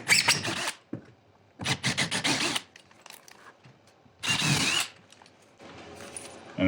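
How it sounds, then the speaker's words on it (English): A power drill bores pilot holes into wood for 5/16 lag screws on a garage door job, in three loud bursts of a couple of seconds each, separated by quiet pauses. "we're going to start by pre-drilling our holes with a pilot drill."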